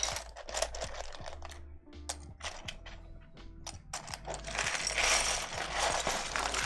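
Plastic keycaps rattle and clack as a hand rummages through a container of keyboard keycaps, a busy, close stream of clicks and shuffling that grows denser toward the end.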